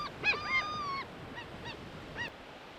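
Seabirds call at a bird colony on the Sea of Okhotsk coast: a few honking, nasal cries, one drawn-out, come fairly close and clear over a soft background hiss.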